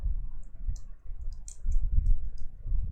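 Computer mouse clicks while setting up a Spring Boot project, several crisp, light clicks scattered across a few seconds, close and fairly quiet over low room rumble, no talking.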